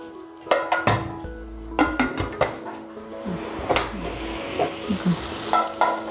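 Chopped onions with added salt fry in a pan for masoor biryani, giving a steady sizzle broken by several sharp scrapes and clinks of a spoon stirring against the metal, all close up with no talk.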